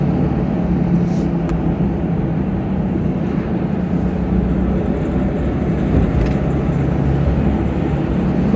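Steady road traffic as cars and motorbikes pass a car moving by a mosque and the DHA Phase 8 directorate, a continuous broadband rumble and whoosh held at an even level for the whole stretch, with no voices heard over it.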